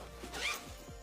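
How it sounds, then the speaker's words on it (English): A compression zipper on an Eagle Creek packing cube, stuffed with rolled clothes, gives a single quick, faint zip pulled close by in a quiet room. "use that compression zipper to fully compress all of the items in the cube"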